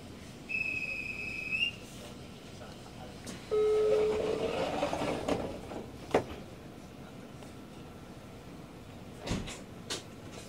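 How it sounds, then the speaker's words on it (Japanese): A JR 815 series train stands ready for departure as a whistle sounds, followed by a tone signal and the sliding clatter of doors closing, with faint thuds after in a quiet platform setting. "閉めるドアにご注意ください。"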